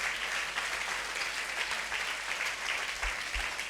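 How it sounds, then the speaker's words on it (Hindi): A church congregation applauding during a Sunday service, a sustained wash of many hands clapping at moderate distance, steady and even with no talk over it. "And can we all give a round of applause for Jesus?"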